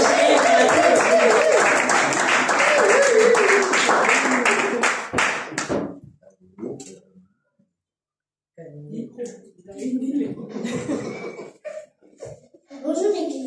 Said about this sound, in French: Quand elle va passer, on va applaudir.